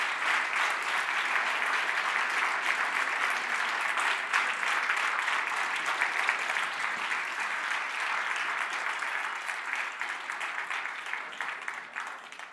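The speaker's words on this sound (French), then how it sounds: "Et on applaudit évidemment, ils sont magnifiques." An audience at the EPFL 2023 final of a three-minute thesis contest applauds the finalists with sustained, full clapping that fills the hall for over twelve seconds, tapering only slightly near the end.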